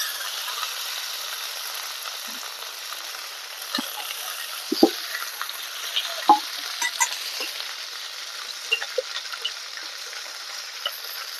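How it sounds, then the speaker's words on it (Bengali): Cut potatoes fry with bitter gourd in a pan, giving a constant bright sizzle with scattered pops and scraping stirs rising above it up close, and no voices. "মিডিয়াম আছে 3-4 মিনিট ভেজে নেওয়ার পর এবার আমি কেটে নেওয়া আলুটাকে দিয়ে দেবো।"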